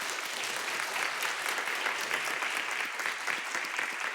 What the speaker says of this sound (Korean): 우리 감사와 격려의 박수 한번 드리겠습니다